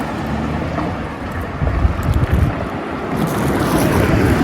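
Wind buffets a microphone outdoors on a sunny day, a steady low rumble with louder gusts swelling through the middle and toward the end, no voices present.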